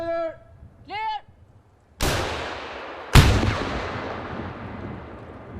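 A Carl Gustaf 84mm recoilless rifle fires on a military range, two sharp, loud blasts about a second apart, each followed by a long rolling echo, after a few short vocal calls.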